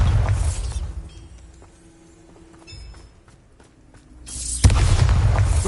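Bombarda spell explosion in the video game Hogwarts Legacy: a loud booming blast at the start, a quieter stretch with small clicks and debris, then a second heavy explosive burst near the end.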